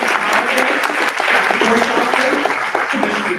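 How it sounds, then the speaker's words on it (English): A luncheon crowd gives hearty, sustained applause for honored women and girls at a Women's History Month event, with a voice speaking faintly over the clapping. "please give a round of applause for all of these amazing women and girls honored here today"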